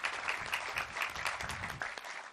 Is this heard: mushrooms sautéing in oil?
no